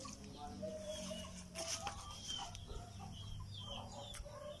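Faint clucking from several chickens at a distance, soft and scattered over low background noise.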